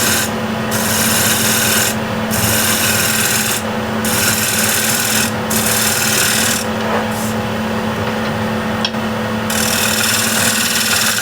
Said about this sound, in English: so we'll shear scrape. Should give me a better surface.